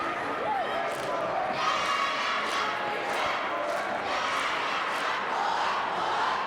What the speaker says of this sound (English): I remember this cheer.